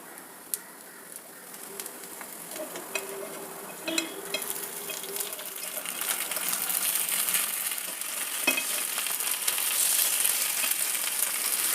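Paddu batter fries in oil in a pan, giving a quiet, continuous crackling sizzle that slowly grows over several seconds, with a few faint clicks and short tones in the background.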